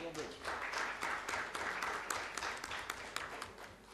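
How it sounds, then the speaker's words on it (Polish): Applause from the audience at a Grajewo town council session in Poland, a steady moderate wash of many hands clapping for about four seconds, fairly distant and roomy. "mogą być brawa jak najbardziej"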